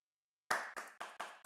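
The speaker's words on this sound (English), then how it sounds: "I'm clapping and walking." Hand claps while walking, five sharp claps in a quick, slightly uneven rhythm after a short silence, close and fairly loud.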